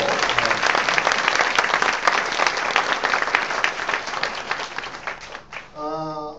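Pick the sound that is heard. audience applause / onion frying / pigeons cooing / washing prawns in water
audience applause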